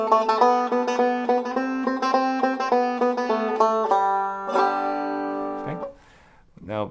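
A banjo picks the simple melody of 'Boil the Cabbage Down' in a steady run of bright, clear notes, up close and without talking. A few longer ringing tones close the phrase before it fades out.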